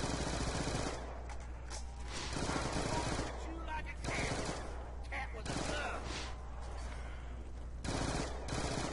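Submachine gun fired at zombies in Die Rise, a Call of Duty zombies map, in rapid automatic bursts broken by short pauses, loud and close against a steady background hum.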